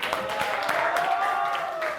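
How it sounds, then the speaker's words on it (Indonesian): Classroom applause as a ranking is announced during a teacher training session, dense clapping from a group of students heard close, with voices mixed in over a sustained two seconds. "Tepuk tangan."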